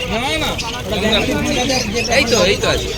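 Small pet birds chirp and tweet busily at a bird market under steady, close conversation in a noisy crowd.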